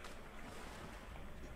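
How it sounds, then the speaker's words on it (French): Wind blowing in the video game Astérix & Obélix XXL, a steady, faint broadband whoosh with no distinct gusts, heard alone without talk. "Oh il y a du vent."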